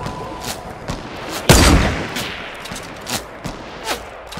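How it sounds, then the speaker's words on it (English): Gunfire in the video game Fortnite, with one loud sharp sniper rifle shot standing out among fainter distant pops and scattered shots, heard alone without talk. "Thank God Dylan actually got a sniper on target."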